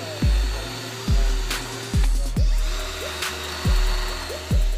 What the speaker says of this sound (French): Les lattes sont préforées tous les 50 cm avec une mèche en bois de 8 mm.